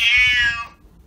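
A single loud, drawn-out meow from a house cat, close and clear, tapering off after about half a second into quiet.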